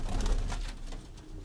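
Sialkoti breed pigeons coo in a brief, low burst over a noisy loft background, with no talking.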